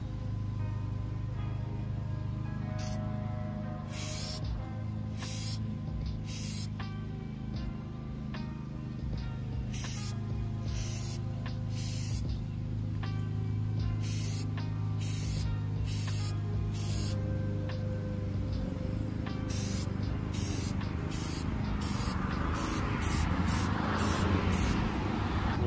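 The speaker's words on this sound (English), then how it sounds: "I'm just going to spray it lightly," Short bursts of filter oil sprayed onto an intake filter for a 10th-generation Honda Civic, about a dozen close hisses in uneven groups that come quicker toward the end, over a steady low hum.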